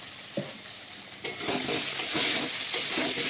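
A brief, close burst of loud sizzling as turmeric-dusted potatoes fry in a pan with tomato, salt and cumin powder, with a few quick stirring strokes cutting through the hiss.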